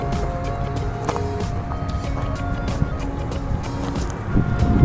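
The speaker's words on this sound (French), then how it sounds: "Ça va vous casser les oreilles, les bruits des voitures." Steady rumble of passing road traffic, continuous and moderately loud, with engine drones rising and fading; no voices.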